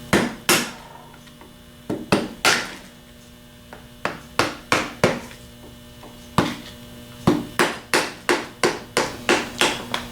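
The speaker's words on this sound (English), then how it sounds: "Just tap it out counterclockwise with a dull screwdriver and a hammer." Hammer blows on a screwdriver tap out the freeze plug of a 37 MT, sharp metallic strikes arriving singly and in quick runs of three to five, close and loud over a steady mains hum, with no talking.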